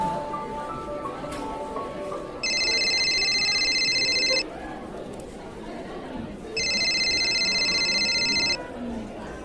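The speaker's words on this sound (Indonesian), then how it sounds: "HP Mas Rian berdering" A mobile phone rings in an office scene, two loud electronic trilling bursts of about two seconds each separated by a pause, over faint background chatter.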